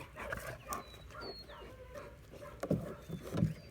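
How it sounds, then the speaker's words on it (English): A dog barks actively at a target during training, with a few sharp barks clustered near the end over a low background and faint ambient noise. "already offering the behavior that I like of the active barking on the target"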